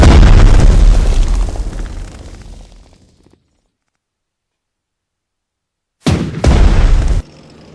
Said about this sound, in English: Frenchmen are starting to attack, but are going under our artillery fire.